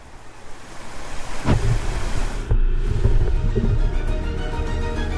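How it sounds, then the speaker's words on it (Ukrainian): Moderate sea waves lapping against the hull of a boat on calm water, a soft continuous wash with a few thumping slaps, mixed with wind buffeting the microphone. "Помірні хвилі м'яко б'ються об борт катера."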